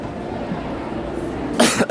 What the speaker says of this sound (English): coughs just take time to go away